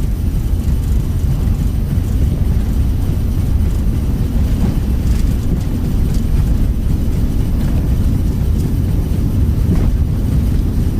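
Jet2 Airbus A321 engines spooling at takeoff thrust in a flight simulator, a steady, loud, broadband roar with no letup across the whole stretch and no talk over it.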